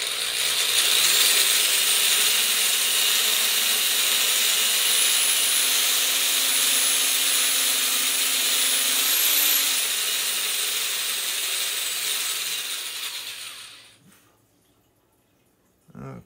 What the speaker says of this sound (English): if I slide her back and forth a couple of times, I can enlarge this as much as I need